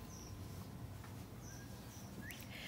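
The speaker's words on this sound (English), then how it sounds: "Sorry if y'all hear, if the birds and stuff bother y'all. I am sitting outside." Outdoors by a garden on a morning, faint birds chirp in short high calls now and then over a steady low background rumble.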